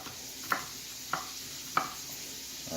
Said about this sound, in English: right now, I'm dicing up my garlics